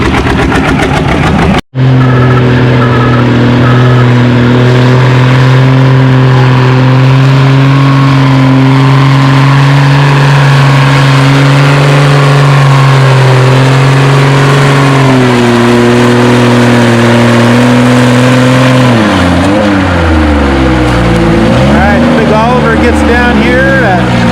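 A heavy pulling tractor in the 4750 lb, 8 mph class at a tractor pull roars loudly and steadily under strain, its deep drone holding constant before wavering and revving unevenly near the end.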